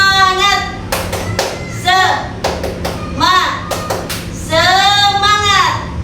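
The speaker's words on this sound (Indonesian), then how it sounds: "Tepuk semangat." Classroom children following their teacher in the tepuk semangat chant, sharp rhythmic clap bursts alternating with sung and chanted voices in a repeating pattern, loud and close.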